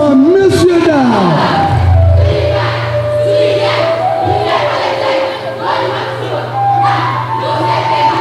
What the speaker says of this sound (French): Sous vos applaudissements, messieurs, dames.